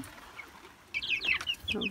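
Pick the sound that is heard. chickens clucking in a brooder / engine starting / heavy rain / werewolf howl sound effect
chickens clucking in a brooder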